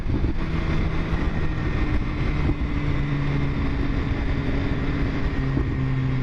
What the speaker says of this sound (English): I don't know if the camera's picking up the little pops and burbles